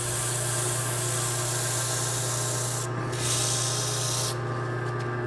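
Steady hand sanding of a wooden spindle for an ice cream scoop with 150-grit sandpaper, a continuous close rubbing rasp with two short breaks in the stroke, no voices.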